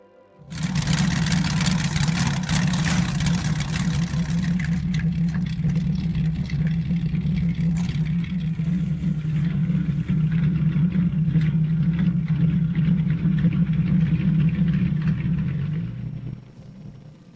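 A Lamborghini V12 engine fitted to a custom motorcycle idles with a deep, steady rumble for about fifteen seconds, then cuts off and fades to quiet.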